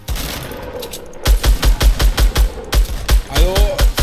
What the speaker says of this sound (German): der Sniper-Schuss war gerade nice